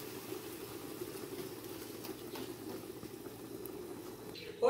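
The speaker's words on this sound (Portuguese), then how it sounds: "meu arroz já tá fervendo" A low, steady bubbling of rice boiling in a pot, close by and continuous, with a brief louder clatter at the very end.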